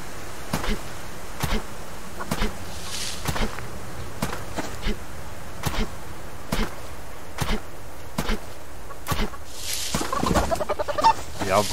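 Chickens cluck in a henhouse in the survival video game Subsistence, with sharp, evenly spaced clucks and squawks repeating through the clip at moderate volume over a steady ambient bed, with no talking.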